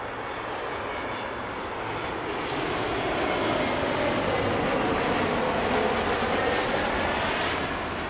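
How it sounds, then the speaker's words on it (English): A United E175 airliner passes overhead at Toronto Pearson airport, its engine roar steady and loud, swelling slightly as it nears, with no talk over it. "See, the plane."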